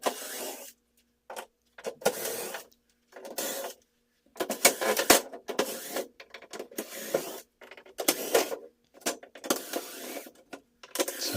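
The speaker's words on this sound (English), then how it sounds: "Just go down the line here and take all these screws out all at once." Screws are backed out of a ceiling one after another, heard as short whirring bursts of a driver separated by silent pauses, close and fairly loud.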